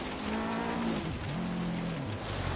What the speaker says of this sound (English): Second gear, pulling hard right up to 120.